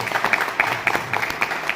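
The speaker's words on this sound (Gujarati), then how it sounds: "એના માટે એક નિલેશભાઈ માટે તાળી આપી દે" Audience applause for a man named Nilesh, a steady patter of many hands clapping together at a live gathering, dense and sustained through the moment with no talking over it.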